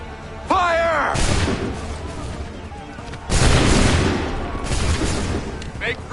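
Musket volleys fired on command in Assassin's Creed, two loud, crackling bursts of many shots, each fading into a rumbling tail, with a shouted voice and battlefield noise between them.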